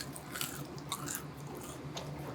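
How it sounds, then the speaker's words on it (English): Crunchy fries being chewed up close: a handful of crisp bites and crunches at irregular intervals over faint background noise, with no talk. "The crunch on these fries."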